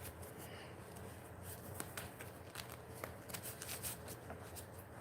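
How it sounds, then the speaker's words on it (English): Playing cards shuffled for a board game, a close, continuous papery riffling with sharp ticks and flutters running steadily throughout, with no talking. "Shuffling these cards."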